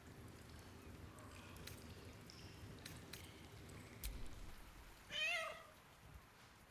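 A single short, faint cat meow near the end in Baldur's Gate 3, rising above quiet ambient hiss and scattered soft clicks.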